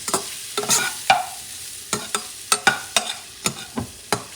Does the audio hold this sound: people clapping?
no